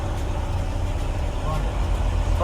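Congested traffic of trucks and cars on a narrow South Sumatra road, a steady low engine rumble and idling drone with a brief horn-like tone near the end.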